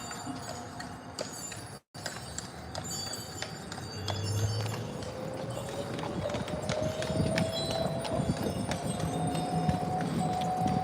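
Horse hooves clip-clop steadily on pavement at Disney's Fort Wilderness Campground, a close, regular rhythm of hard knocks that keeps going throughout, with a rising engine-like hum and outdoor background noise behind it.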